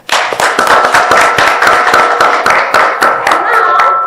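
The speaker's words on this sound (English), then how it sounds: "Let's clap your hands for yourself." Close, loud hand clapping from an audience at a women's leadership conference in Dubai, with individual claps audible in a brisk, fairly regular rhythm, along with some voices and cheering.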